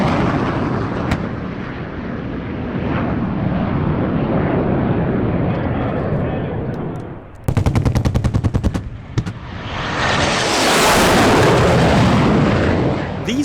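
MiG-17 jet fighters pass at a military warbird airshow with a loud, sustained jet roar, broken by a short burst of rapid pulsing crackle, before the roar swells again.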